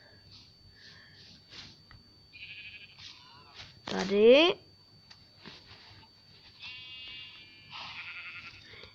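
Sheep in the Minecraft video game bleat in a single loud, wavering cry among soft game clicks and chimes, with someone speaking briefly in Czech.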